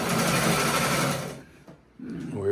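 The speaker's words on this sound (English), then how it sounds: "This is the type of sewing machine that will sew through" Sewing machine stitching African-design fabric in a fast steady whir, then stopping abruptly, with a few short mechanical clicks before it starts up again.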